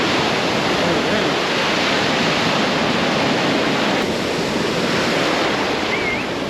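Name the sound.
ocean waves at Isla Verde Beach, San Juan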